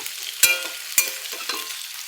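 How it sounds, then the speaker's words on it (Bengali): Flattened atap rice (chira) frying in a pan, a steady sizzle broken by a few sharp scraping stirs of the spatula, close and without talk. "চিড়েটা ভেজে রাখছি।"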